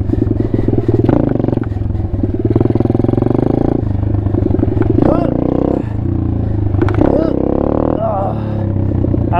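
The engine of an Apollo RFZ Chinese dirt pit bike, recently repaired, revs loudly and close during wheelie attempts, its buzzing note rising and falling with throttle surges amid rattling clatter, with a voice occasionally heard.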